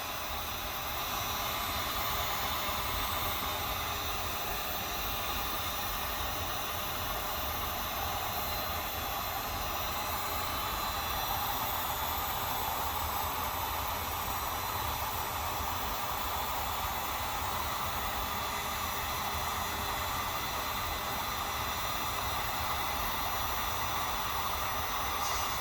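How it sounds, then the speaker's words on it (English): A heat gun blowing as it warms up to soften a hose end on a 2013-2019 Ford Fusion 1.5L EcoBoost, a continuous, quiet airy hiss and hum that stays steady throughout with no talking. "right now we got our heat gun already warming up"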